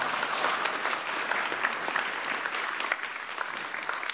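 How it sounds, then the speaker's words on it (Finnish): A seated audience gives applause to a panel at the end of a Finnish discussion event, a dense, steady burst of many hands clapping at moderate volume with no talk. "Annetaan heille vielä aplodit."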